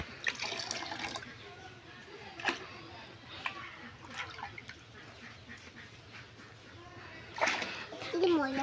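A child washes hands with water poured from a large pitcher, and short splashes and trickles come in bursts over a quiet background, with a few louder pours near the end.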